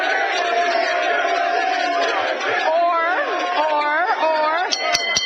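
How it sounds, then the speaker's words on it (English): A studio audience at a sports debate show cheers and whoops with steady crowd noise, raised voices rising and falling above the din throughout. "Give him a round of applause."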